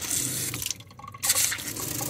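Water runs steadily from a newly installed faucet into the sink of a truck camper, a close, hissing flow that briefly dips before surging again, with no talk.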